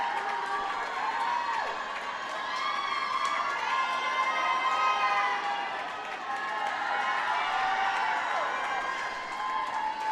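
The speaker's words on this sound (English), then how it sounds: "The whole crowd cheering on the Packers" Spectators cheer and shout at a girls' high school swim meet as a swimmer races toward the finish, a continuous echoing roar of voices in an indoor pool with whistles and calls rising and falling.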